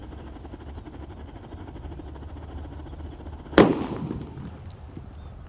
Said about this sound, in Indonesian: di sini ada Disco Happy Flower lap door yang warna merah guys. Kita nyalakan, kita masukkan, kita dengarkan suaranya.